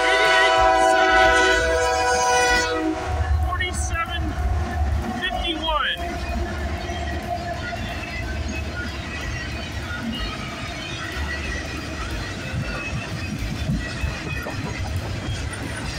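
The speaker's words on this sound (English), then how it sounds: "CPKC 133 is coming." CPKC freight train 133 on the Hamilton Subdivision sounds a loud horn at the start, then a steady rumble of rail cars rolls past up close for a long stretch.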